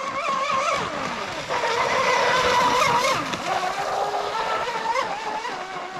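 A Proboat Mystic 29 RC boat with a brushless motor runs at a steady high-pitched whine. The whine rises and falls a little as the boat moves, and it sounds fairly close with no one talking over it.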